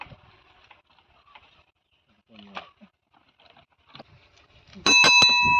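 Bicycle bell rings loudly near the end in two bright metallic bursts, after a stretch of faint background sounds and soft voices.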